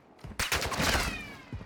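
Close, loud bursts of automatic gunfire in the shooter game DMZ, a quick cluster of cracking shots followed by one more short burst.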